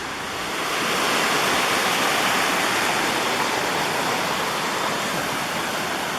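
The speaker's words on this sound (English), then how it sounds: "It's a pretty falls." Steady roar of a waterfall beside a trailhead parking lot, a swimming spot with pools around small islands in the Adirondacks, loud and continuous broadband rushing water with no voices.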